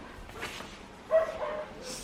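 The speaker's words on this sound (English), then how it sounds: "if you're gonna hear some kind of barking, it's my doggies." A single short dog bark or yip at moderate distance, brief and fairly quiet against a soft background.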